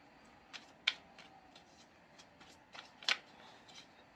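Lenormand cards handled and shuffled up close and quietly: scattered soft flicks and riffling snaps with two sharper card slaps, with no talking.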